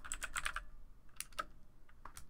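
Short bursts of typing on a computer keyboard entering a firewall status command in a terminal: a quick run of close key taps, a pause, then a few isolated keystrokes, with no talking.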